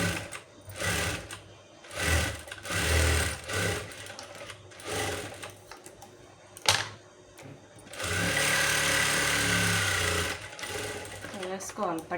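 A domestic sewing machine stitching a hook strip onto a blouse, its rapid mechanical whir coming in several short bursts and then one longer continuous run, close and clear, with someone talking between the stitching.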